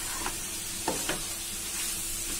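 Mutton masala with tomato fries quietly in a pan, a faint soft sizzle broken by a few brief stirring scrapes, with no voices.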